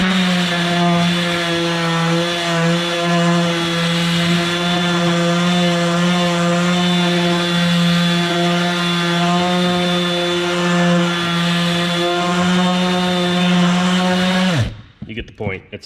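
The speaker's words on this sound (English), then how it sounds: "it's a sander." A DeWalt 18V sander runs at a steady high-pitched whine with a strong hum, loud and close, then winds down abruptly near the end.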